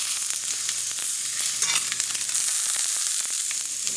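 Seared cabbage sizzles steadily in a skillet, a bright close frying hiss punctuated by light clicks and scrapes as it is moved around.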